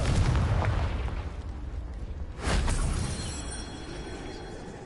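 Two booming blasts from the Confringo explosion spell in the video game Hogwarts Legacy, the first at the start and a second a couple of seconds later, each fading into a rumbling tail.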